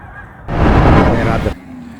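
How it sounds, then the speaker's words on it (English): Geese honk loudly in a dense, overlapping burst during a massive migration across the sky, a single close cluster of calls lasting about a second. "a massive bird migration sweeps across the sky, creating truly amazing patterns"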